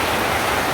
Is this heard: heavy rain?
yes